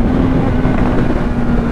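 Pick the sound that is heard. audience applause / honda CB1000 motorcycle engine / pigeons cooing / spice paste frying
honda CB1000 motorcycle engine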